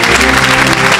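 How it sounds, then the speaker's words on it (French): A church congregation at a French-language healing service bursts into loud, dense applause, a continuous close wall of clapping with no voices above it. "Acclamez pour Jésus."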